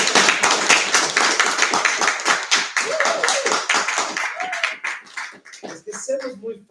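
Audience clapping at a book launch, fairly close and brisk at first, then thinning and fading as a voice begins talking over the last claps.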